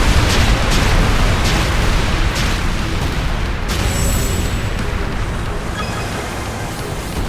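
Cannon volleys and explosions in a naval battle in the video game Ys X: Nordics, a loud, dense broadband roar of booms and blasts running continuously for several seconds, with brief high metallic ringing near the end.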